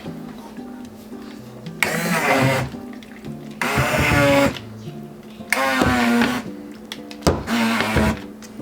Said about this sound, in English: I'm gonna use my immersion blender and like puree it down a little bit.